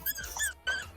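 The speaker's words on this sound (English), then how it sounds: "It's her dog." A dog gives short high squeaky whimpers, two close bursts with a brief gap, near and fairly clear over a low background hum.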